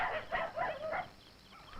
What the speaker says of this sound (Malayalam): നായ്ക്കള് കുറയ്ക്കുന്നു